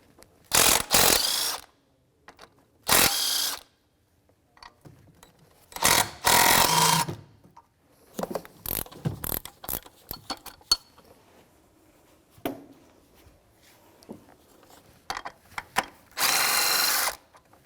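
A 14mm socket wrench works engine mount bolts loose on a 2001-2007 Volvo V70, heard as repeated bursts of ratcheting clicks separated by pauses, fairly close.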